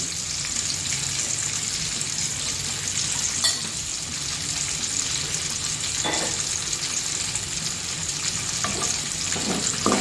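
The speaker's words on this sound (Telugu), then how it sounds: "జీలకర్ర తక్కువనేది ఆవాలు వేసేసుకుంటున్నాను" Mustard seeds fry in hot oil for gongura pachadi, a continuous close sizzle and crackle with a few sharper pops and brief clatters from the pan, and no talking.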